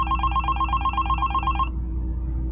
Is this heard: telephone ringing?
yes